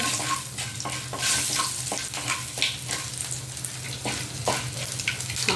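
Raw banana slices fry in a pan, a continuous close sizzle with intermittent spatula scrapes and stirring clinks, and no one speaking.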